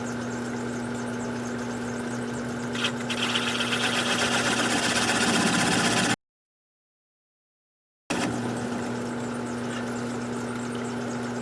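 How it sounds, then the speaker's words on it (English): Wood lathe spinning an alder platter blank while a 1/4 inch swept back gouge cuts away the tenon, a steady droning hum with a rougher cutting texture, broken by a short gap of silence. "I'm going to grab a 1/4 inch swept back gouge to work the rest of this tenon away"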